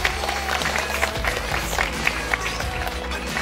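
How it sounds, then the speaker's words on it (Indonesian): Audience applause at the opening of a rock-climbing competition, with quiet, scattered clapping over a low crowd murmur in a large space. "Tepuk tangan untuk kita semua."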